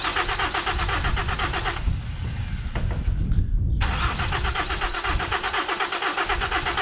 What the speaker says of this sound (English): we've just got to turn it over first on the starter motor and get that oil circulating